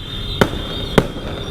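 Two sharp firecracker pops burst about half a second apart during a home birthday celebration, each short and punchy over a steady high background tone, with no talking.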